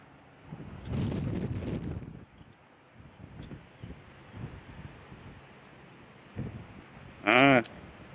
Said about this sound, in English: The wind is intense today